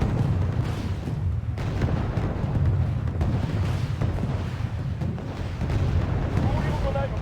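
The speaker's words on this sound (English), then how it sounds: "You two begin firing. As soon as I see some missiles go now." Missiles and artillery fire in the war strategy game Wargame: Red Dragon, a continuous dense rumble of booms and blasts with low, heavy bass, loud and sustained throughout.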